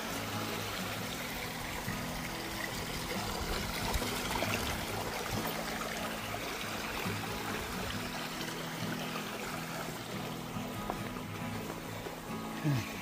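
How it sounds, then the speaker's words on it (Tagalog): A mountain river flows steadily, a continuous broadband rush of water that stays even and fairly close for the whole stretch, with no voices over it. "Yung ilog dito sa bundok."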